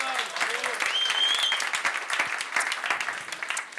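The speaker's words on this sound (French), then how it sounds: "Applaudissements pour Stéphane, s'il vous plaît." An audience claps for Stéphane at the Jamespot Night event in June 2024, a dense steady round of applause with some voices mixed in, lasting throughout before tapering slightly.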